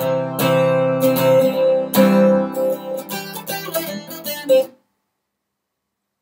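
An acoustic guitar plays a riff, with strummed chords, slides, hammer-ons and pull-offs, close and clear, before ringing out into silence near the end.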